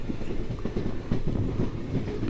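The Guntur Express passenger train rolls along the rails between Gudivada and Guntur, heard from on board as a steady low rumble with faint rhythmic wheel clatter.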